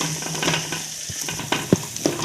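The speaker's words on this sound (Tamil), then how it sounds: "அது வந்து நம்ம வதக்கிடுவோம்." Sliced onions sautéing in a pan for aval upma give a steady, soft sizzle, with a few sharp scrapes and taps of a stirring spoon against the pan rising above it.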